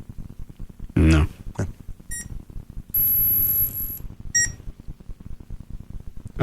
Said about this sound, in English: It goes little beep and then the long beep.